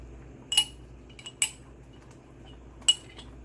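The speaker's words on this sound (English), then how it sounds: "We're just going to stir it in, get it all in there" A spoon stirring homemade blueberry syrup in a pot, clinking against the pot three times with sharp, close metallic taps and quiet pauses between them, with no talking.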